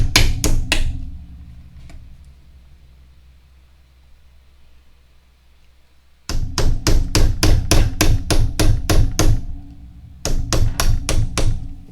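Sharp metallic hammer strikes punching holes in a tin can: three quick blows, a long quiet gap, then a steady run of about ten evenly spaced loud hits and a final burst of four more.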